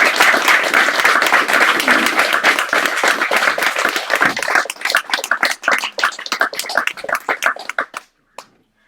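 An audience at a poetry reading claps loudly and steadily for several seconds, then the applause thins to a few scattered claps and stops.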